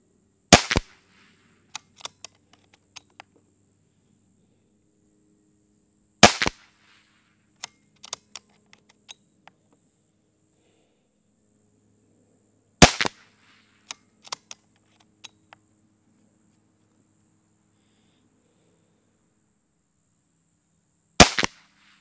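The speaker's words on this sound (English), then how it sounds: "They fit in the Brocock's magazine, and they're going downrange with deadly accuracy." A Brocock .22 air pistol fires polymag short pellets, giving four loud, sharp cracks spaced several seconds apart, each followed by faint clicks and handling noises of reloading and cycling the magazine in otherwise quiet surroundings.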